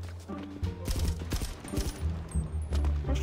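Gunfire in GTA RP zombie survival play on a FiveZ Brasil server, a rapid run of sharp shots in close bursts with brief gaps.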